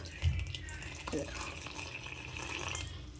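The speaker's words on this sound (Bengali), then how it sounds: "দিয়ে দিলাম দুধ" Milk is poured into malpua batter in a soft, low, steady liquid pour close by, with a faint voice in the background.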